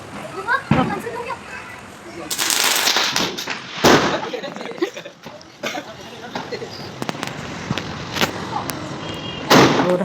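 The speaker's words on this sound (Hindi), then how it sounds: "ये दोनों भी नीचे पटाखे फोड़ रहे थे।" Children set off Diwali firecrackers outdoors, with several sharp, loud bangs and crackling bursts spaced irregularly among children's voices and playful chatter.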